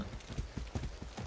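Horse hooves clip-clopping in the video game Far Cry 6, a brisk, even run of close hoof beats on firm ground, clear and alone.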